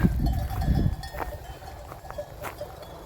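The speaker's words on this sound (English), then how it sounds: "a flock of happy sheep." A flock of sheep wearing cowbells moves along a Camino de Santiago trail in Spain, with scattered hollow clanks sounding at a moderate distance after a brief burst of low rumbling and faint voices.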